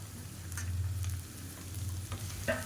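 Chopped beans and onions sauté together in a pan, with a steady low sizzle broken by a few scraping stirs and utensil clinks.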